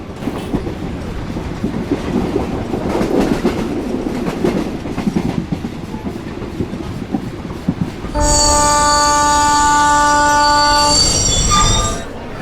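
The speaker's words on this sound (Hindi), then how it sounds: "ये लो, ट्रेन यहाँ सामने खड़ी है।" A Mumbai–Delhi express train at a railway platform rumbles and clatters, then a loud sustained horn blares for several seconds before fading, with squealing wheels and faint station bustle.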